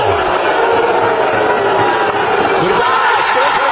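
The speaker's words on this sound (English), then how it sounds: "The crowd is getting involved." Stadium crowd at a Sharjah cricket ground during an Afghanistan versus South Africa one-day international, a dense continuous roar of cheering and noise at a steady loud level throughout.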